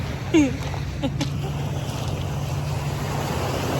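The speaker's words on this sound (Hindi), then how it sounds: "यहाँ पे लहरें आ रही हैं।" Waves wash onto the shore at Mackinac Island as a steady, broad rushing hiss, with wind noise throughout and a faint voice near the start.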